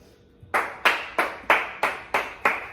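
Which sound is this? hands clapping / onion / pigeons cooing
hands clapping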